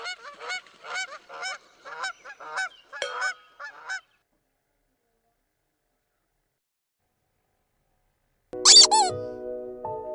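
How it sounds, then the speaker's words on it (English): A quick series of about ten nasal honks from geese, then several seconds of silence before a final loud squeaky call. "Nine geese."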